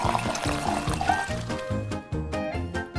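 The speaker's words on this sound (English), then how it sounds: "Let Pea Pea pour a glass of Coca-Cola for John." Coca-Cola pours into a glass in a children's cartoon, a steady bubbling, gurgling stream of liquid over a bouncy background music bed, with fizzy splashing throughout.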